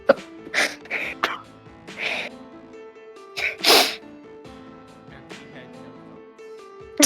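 A few brief vocal bursts, including a sneeze, stand out against quiet background music, with soft breathy sounds scattered between them.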